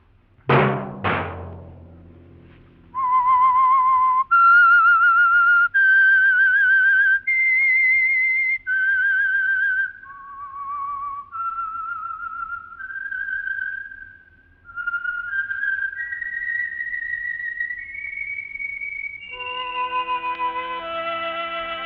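A long whistled melody of held and stepped notes, clear and close, with two brief louder sounds at the start and a fuller closing chord.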